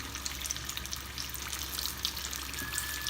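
Chicken cheese samosas deep-frying in oil over a medium flame give off a dense, continuous crackling sizzle, close and steady with tiny pops scattered throughout.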